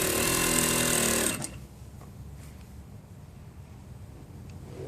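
A sewing machine stitching a shawl collar seam, matching notches as it goes: a close, steady whirring run of stitching for over a second, then it stops, leaving quiet room noise.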